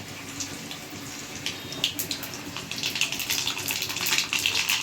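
Fenugreek and mustard seeds hit hot oil, giving a close, crackling sizzle that builds in loudness and density over a few seconds, with sharp popping bursts and no talking.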